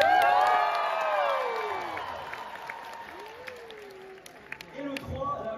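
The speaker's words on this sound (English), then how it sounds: "Le 2, on rajoute aux applaudissements un petit youhou," A crowd at the Miraculous movie premiere in Paris claps steadily with high whoops and cheering voices rising over it, loud at first and easing slightly before swelling again at the end.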